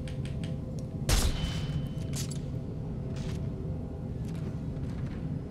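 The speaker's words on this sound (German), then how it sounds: "Ich probiere mal kurz das Sekundärfeuer." Secondary fire of a weapon in Dead Space 2, one sharp loud blast near the start followed by a few fainter bursts and rumbling game ambience.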